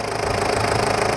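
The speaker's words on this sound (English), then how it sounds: "That's the engine. That's putting off some serious heat." A 3.0 liter diesel engine in a 1996 Toyota HiAce Super Custom van runs steadily at idle, with a close, continuous rattling drone and no talking.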